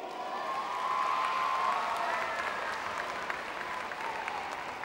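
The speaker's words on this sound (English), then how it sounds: "Please give her a round of applause" An indoor audience applauding at a lifetime achievement awards event, a dense sustained wash of clapping that swells and then gently tapers, with faint crowd murmur.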